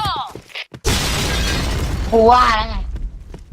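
A video game grenade explosion erupts and sustains as a crashing, shattering roar, with a voice speaking just before and over the tail end.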